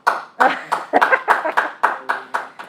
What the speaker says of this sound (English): I'm getting a round of applause.